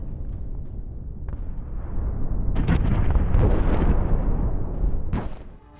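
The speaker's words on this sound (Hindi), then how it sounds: "ये बमबारी है।" Bombing explosions from an Israeli air strike in Tartus, Syria: loud, continuous rolling blasts and deep rumbling, with sharper bursts cutting through before the roar fades.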